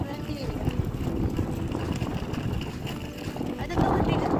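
Gusty wind buffets the microphone outdoors at Ouistreham harbour, a continuous low rumble with a stronger gust near the end.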